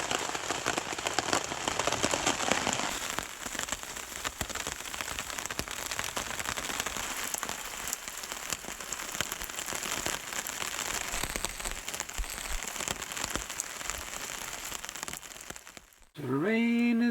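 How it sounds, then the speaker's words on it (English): Steady, dense rain patters on a tarp close by for a long stretch on a lake, then stops abruptly near the end. "And the rain is coming in. I'm heading for the tarp."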